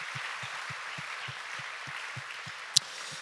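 Applause from a church youth congregation welcoming new family members, steady rhythmic clapping from a crowd heard fairly close, with a brief sharp tap near the end.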